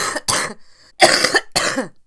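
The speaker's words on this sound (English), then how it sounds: "I'm not getting so excited that I'm just inducing a coughing fit." A person's coughing fit while sick: a few harsh bursts in quick succession, close and fairly loud, with short gaps between them and no talk.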